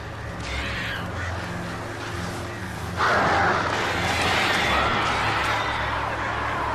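A crow-like bird enemy in the video game Alan Wake caws harshly and repeatedly, growing louder partway through over a steady background of game ambience.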